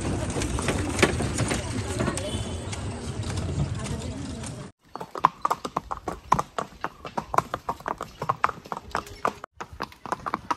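Horses walk a trail at Matheran, hooves clip-clopping in an irregular close rhythm, first under a wash of crowd noise and voices, then clearer and sharper after a short break.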